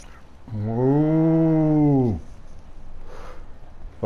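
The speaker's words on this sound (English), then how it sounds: "Fucking two-headed cow." A two-headed cow in the video game Fallout 4 lets out one long, loud, drawn-out moo that falls in pitch at the end, followed by quiet ambient game sound.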